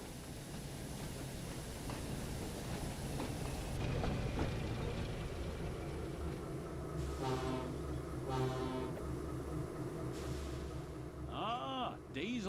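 A train of trucks pulling into a big railway yard, a continuous rumbling roll of wagons with a couple of horn or whistle blasts and squealing tones near the end.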